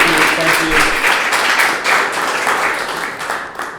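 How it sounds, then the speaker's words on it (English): A live audience applauds at a monthly community meetup after a guest's talk, steady dense clapping filling the room at close range with some voices mixed in. "Please get a round of applause for Mallory"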